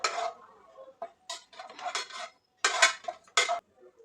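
Mushroom biryani ingredients frying over a low flame in a pan, with scattered bursts of sizzling and clinking of a utensil against the pan, close and moderately loud with short pauses between.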